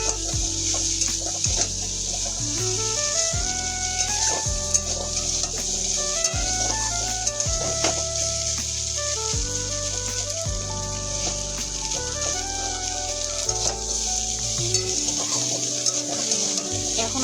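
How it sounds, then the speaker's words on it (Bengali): Potatoes being lightly fried without oil in a pan for a soya bean curry give a steady, soft sizzling hiss that runs underneath loud, bouncy background music. "কোনো তেল দেবো না তেল ছাড়াই এটাকে একটু আমি হালকা ভেজে নিচ্ছি"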